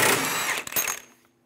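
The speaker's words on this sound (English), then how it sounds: "using a 32 millimeter axle nut socket, we're going to remove the axle nut" A power tool spins off the 32 mm axle nut on a 2003-2007 Honda Accord hub: a loud steady whirring burst, briefly stuttering, then winding down and fading to quiet.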